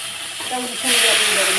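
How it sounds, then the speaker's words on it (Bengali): Very hot water poured into a pan of fried crab with turmeric and salt, a steady sizzle and hiss that swells into a louder rush of steam partway through; no talking. "এবারে আমি জল দিয়ে দেবো"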